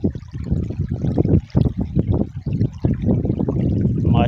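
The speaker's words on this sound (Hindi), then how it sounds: "माशाल्लाह ज़बरदस्त ज़ोर शोर से पानी चल रहा है" The Malir river flows strongly, a continuous rushing, trickling water sound close by with uneven surges, heard alone without talk.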